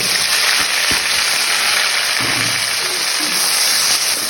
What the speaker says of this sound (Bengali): তেল গরম হয়ে গেছে আমার, এটা আমি দিয়ে দিচ্ছি পেঁয়াজ, টমেটো, আলু একসাথে।